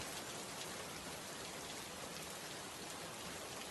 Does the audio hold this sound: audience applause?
no